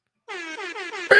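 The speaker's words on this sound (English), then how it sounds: "That might be air horn." A single long air horn blast in a stuttering, pulsing pattern, loud and close, ending in a sharp burst of noise.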